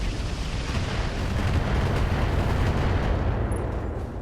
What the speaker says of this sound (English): we're going to fire our LRMs on that Valk